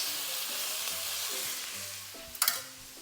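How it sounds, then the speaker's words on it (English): A steak sizzling steadily in a frying pan just after being flipped, a continuous hissing fry with a brief sharp scrape or clatter near the end. "My steak needs flipping. Flip the steak."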